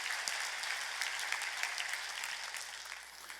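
A church congregation applauding during a Sunday worship service, a steady, even wash of many hands clapping that sounds somewhat distant and fills the whole clip, with no talk over it.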